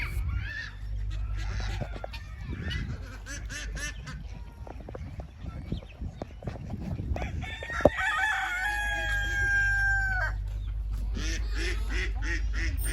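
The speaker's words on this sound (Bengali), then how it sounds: "এখানে অনেক রকমের হাঁস এবং মুরগি আছে।" Roosters crow and ducks quack nearby at a small zoo in Qatar, with clucking and other bird calls mixed over a steady low background hum.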